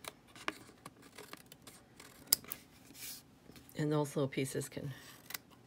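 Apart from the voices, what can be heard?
snips trimming paper for a card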